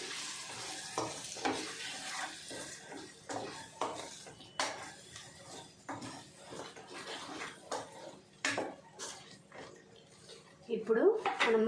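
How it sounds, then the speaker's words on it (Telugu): Masala curry of sima chintakaya being stirred in a pan, with scattered spoon scrapes and clinks against metal over a low sizzle, while a voice talks throughout. "మసాలా కూడా వేసేసుకొని ఒక్కసారి కలుపుకోవాలి"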